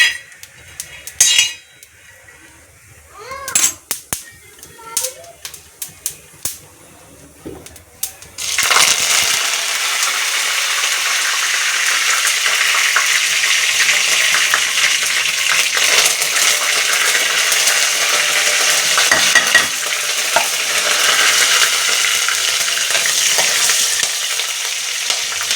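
Cumin roasting in hot oil in a pan for sabudana khichdi, a few sharp clinks of a utensil at first, then a loud, continuous hissing sizzle that holds steady to the end.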